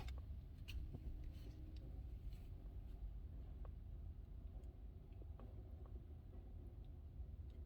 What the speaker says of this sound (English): Truck behind us.